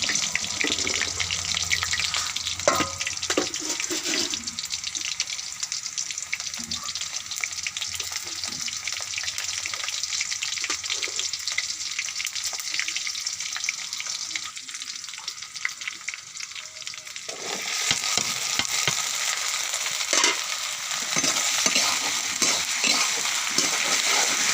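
Okra (bhindi) frying with chili in a pan produces a dense, crackling sizzle that runs without a break, with scattered spatters and stirring noises, dipping slightly in the middle before surging louder again near the end.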